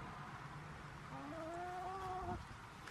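Backyard laying hens, some fluffy and silkie-like, give a few drawn-out, rising clucks and calls. The calls are faint and come over a soft, steady background hiss.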